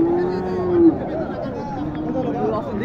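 A cow at the Mataji cattle market in Naogaon lets out a brief low moo near the start, followed by crowd chatter and market bustle in the background.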